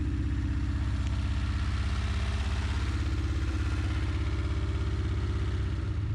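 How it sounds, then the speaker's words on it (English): An old abandoned car engine, just started with ether sprayed into the carburetor, idles steadily at held RPM with a loud, even, slightly clattering rumble throughout. "And now the engine started and is holding RPM."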